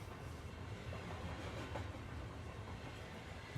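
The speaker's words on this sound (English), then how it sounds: "Get on this train and let's ride." A train rumbles steadily along the tracks, a continuous low roar with faint rattling, close and even throughout, no voices.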